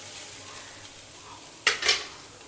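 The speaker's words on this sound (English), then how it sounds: "add this boiled and grated raw banana and give it all a good stir" Dal with boiled, grated raw banana is stirred in a pan, a faint sizzle underneath and two short, louder scraping strokes of the spoon near the end.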